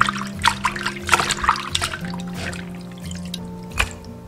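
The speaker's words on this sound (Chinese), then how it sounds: "然后再用清水清洗干净，这样清洗的鳗鱼表面就不会有那种粘液了。" Clean water runs and splashes in a kitchen as eel pieces are rinsed by hand, a close, uneven stream with intermittent sloshing and dripping.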